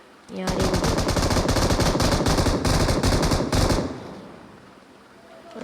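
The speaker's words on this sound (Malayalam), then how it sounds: "കൂട്ടുകാരൻ ആരെയാ വെടിവെക്കുന്നുണ്ട് കേട്ടോ" Sustained rapid automatic gunfire in the video game BGMI, loud and continuous for about three and a half seconds, then cutting off to a quieter background.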